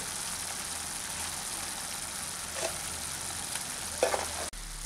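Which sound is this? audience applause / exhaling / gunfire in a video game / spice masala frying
spice masala frying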